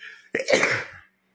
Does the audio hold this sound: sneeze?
yes